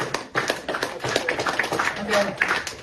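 Several sharp hand claps in an uneven sequence, close and fairly loud, with talking over them.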